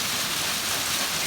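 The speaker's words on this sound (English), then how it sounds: "There's hail all over the asphalt." Hail from a hailstorm pelting an asphalt street and grass, a steady dense hiss of many small impacts with no pauses, heard close and alone.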